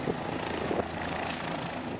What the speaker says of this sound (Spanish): el helicóptero Halcón vuelva a patrullar la ciudad desde el aire